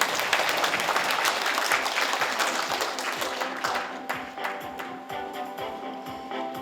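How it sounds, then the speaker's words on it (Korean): Attendees at a Gyeongsangbuk-do carbon neutrality vision ceremony give a big round of applause that starts full and thins out, leaving a few scattered individual claps as it dies down. "큰 박수 부탁드립니다."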